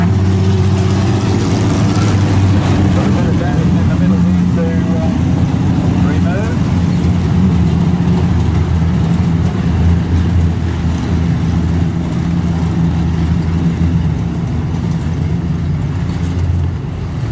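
A modified sedan race car runs a lap of honour around the Fraser Shores Maryborough Speedway, its engine droning steadily throughout while a loud announcer talks over it.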